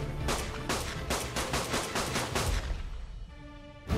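Gunshots in ARK Genesis: a steady rhythmic string of about ten loud, close shots, followed by a pause and one more shot at the end.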